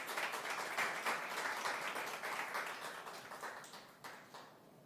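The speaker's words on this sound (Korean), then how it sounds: "박수로 환영해 주시면 감사하겠습니다" An audience applauds to welcome presidential candidate Yoon Suk-yeol at a People Power Party primary vision presentation, a steady wash of many hands clapping that slowly thins and fades toward the end, with no one speaking.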